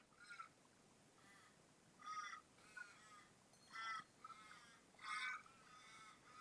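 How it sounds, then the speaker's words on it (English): Several crows caw in short bursts of two or three calls, a little distant, over a quiet outdoor background with no talking. "So if you hear that background, crows outside my house."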